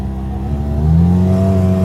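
A vehicle's engine pulls away hard after the handbrake is released, its rising drone climbing steadily in pitch, loud and close, with no voices over it.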